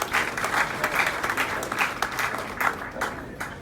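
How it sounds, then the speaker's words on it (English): A crowd at an American Airlines send-off event for the final MD-80 (Super 80) flight claps steadily, a dense wash of applause with no pauses for a few seconds. "So give yourself a round of applause."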